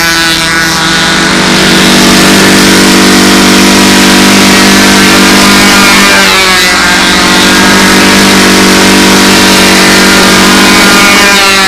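A model airplane glow engine runs steadily at full throttle during propeller testing on a windy day, a loud continuous high-pitched buzz with a slight pitch wobble midway.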